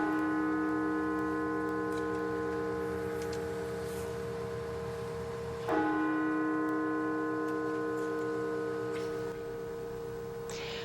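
The Washington National Cathedral's bell in Washington, D.C. tolls with a long ringing hum, then a fresh strike around the middle sets off another sustained, slowly fading peal, clear and alone.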